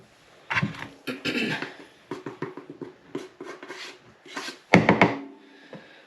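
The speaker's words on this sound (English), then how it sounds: "If you're not weighing it, you want to scoop it and then just level it off." All-purpose flour scooped and levelled off in a home kitchen: a run of close, dry rasping and scraping strokes in uneven bursts, the last few louder and sharper, with no talking.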